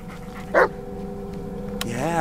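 A dog in the video game Blair Witch gives a single short bark, followed by a brief whimper-like whine near the end over a low steady background hum.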